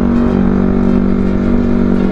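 A Honda CBR 250 RR motorcycle set up with a Rebel 250-style riding position cruises along, its engine giving a steady, close, loud hum and drone with no talk over it.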